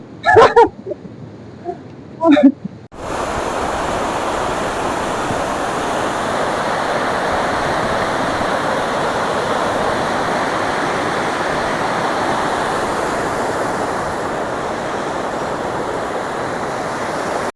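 A few seconds of quiet with faint sounds give way to a steady, loud rush of flowing mountain water on a Himalayan trek near Ghangaria that continues unbroken to the end.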